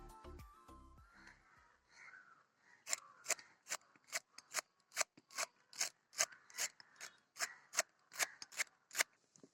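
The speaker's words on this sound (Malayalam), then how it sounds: "അപ്പോൾ നമുക്കിങ്ങനെ ചെറുതായിട്ട് വേണം അരിയാനുള്ളത് വട്ടത്തിന്" Okra (lady's finger) sliced into small rounds with a knife for kichadi, a quick run of crisp, evenly spaced cutting strokes on a board, close and clear with no talking.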